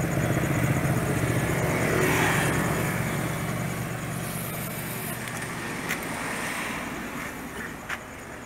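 A 2010 Toyota Camry 2.4L idling, captured at the exhaust pipe: a steady, broadband rushing drone with low rumble, close and continuous, with a couple of faint knocks near the end.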